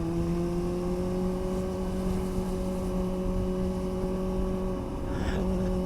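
A steady motorbike engine drone with strong low harmonic tones holds throughout, loud and close, with a slight surge near the end.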